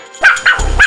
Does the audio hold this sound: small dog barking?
yes